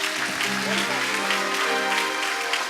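Loud, continuous clapping from a church congregation at a praise and worship service, with voices and music blending in underneath.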